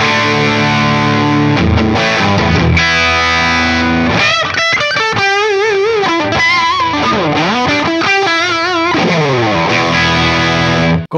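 An electric guitar played through Mooer micro pedals with distortion and modulation effects rings out loud and alone, sustained chords and bent, wavering notes filling the whole stretch.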